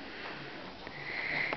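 A pony sniffs up close at a camera, giving a soft continuous snuffling breath with a slight rise in intensity near the end.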